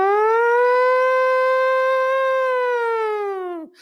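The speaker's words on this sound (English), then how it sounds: "The bomberos are testing their siren." A fire brigade siren in a Portuguese town, tested at midday, sounds as one loud, steady wailing tone that holds for several seconds before dropping away sharply at the end.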